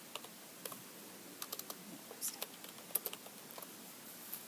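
Faint, quick clicks and taps of typing on a computer keyboard come in irregular small bursts over a quiet room background.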